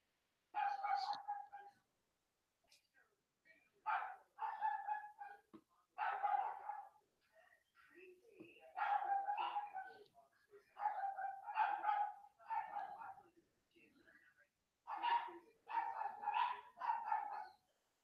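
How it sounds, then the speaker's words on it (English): Two dogs bark repeatedly in the background, bursts of several yaps separated by short pauses, fairly faint and distant, continuing throughout. "and then I have two dogs barking in the background."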